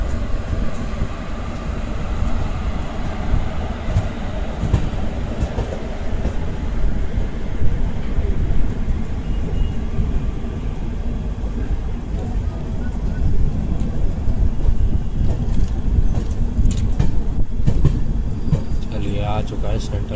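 The 12004 Swarna Shatabdi Express from New Delhi to Lucknow pulls into Kanpur Central with a loud, steady rumble and rattle heard from inside a coach, and faint voices beneath it.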